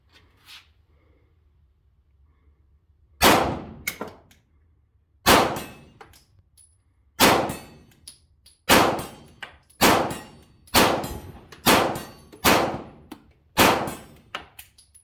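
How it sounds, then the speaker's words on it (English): Walther PDP-F pistol fired at an IPSC steel target 25 meters away: eight sharp shots, each followed by a ringing clang from the steel, spaced about two seconds apart at first and then quickening, loud with no talking. "See how she shoots. 25 meters and IPSC steel target."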